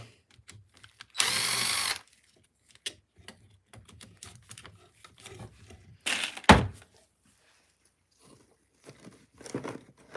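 A power driver buzzes in one sustained burst while screws are backed out of a nitro RC car during crash repair, followed later by clattering handling noises and a sharp knock nearby.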